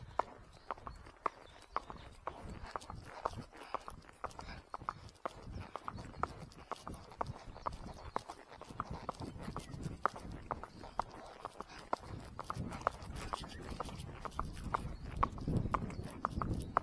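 Hooves of a very young horse clip-clopping steadily on a hard road while ridden, a brisk even rhythm close by, with a faint voice now and then.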